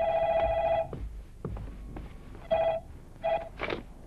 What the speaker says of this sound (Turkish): Serdar Bey, telefon.